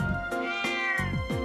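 An upset cat in the video game Trails of Cold Steel lets out a quick run of close, loud, whiny meows, about four in a row, with no pauses between them.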